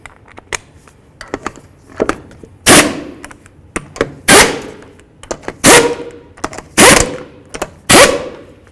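Power tool running bolts down on the upper control arm of a 2003-09 Mercedes-Benz E320: a series of loud, sharp impact bursts spaced about a second apart, with quieter clicks and knocks in between.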